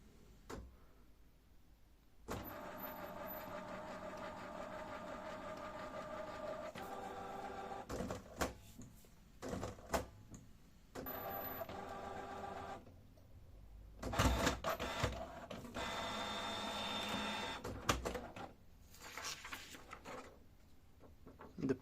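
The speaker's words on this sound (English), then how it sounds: "Now we are waiting for the printer." A Canon PIXMA inkjet printer with a P07 error whirs and clicks through its startup cycle, with bursts of mechanical motor noise, pauses, and a louder grinding stretch near the end.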